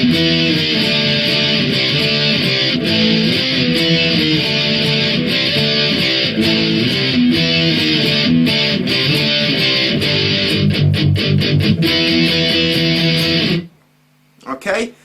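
Distorted electric guitar power chords play a punk chorus over a full, loud backing jam track, with a steady driving rhythm that runs for about thirteen seconds before cutting out, followed by a few brief quieter hits.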